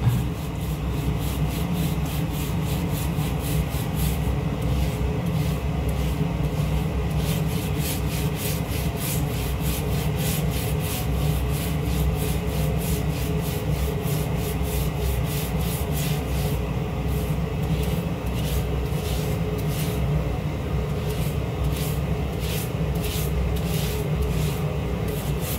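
Burnt-on crust being scrubbed off a surface, a close, continuous rhythmic rubbing and scraping that carries on without pause and with no voices.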